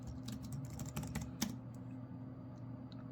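Quiet rapid keystrokes as a password is typed on a computer keyboard, a soft irregular clatter of clicks over a steady background hum.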